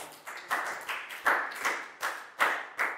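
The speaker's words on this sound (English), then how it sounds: "Big round of applause." Year 4 maths students clap for a classmate in a classroom, a modest round of scattered hand claps with rhythmic bursts roughly every half second, fairly close and without talk.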